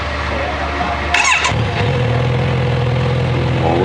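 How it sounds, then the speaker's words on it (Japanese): A Kawasaki Z900RS motorcycle engine cranks briefly, catches, and settles into a deep, steady idle close by. "よし、エンジンかけよ"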